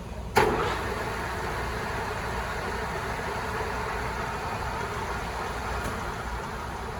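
A DoAll Romi LS-1780 lathe runs at 450 RPM with a steady, even mechanical hum after a short knock at the start, close and continuous without speech.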